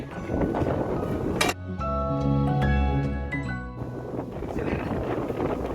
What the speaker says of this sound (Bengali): বাইরে যা হাওয়া দিচ্ছে রে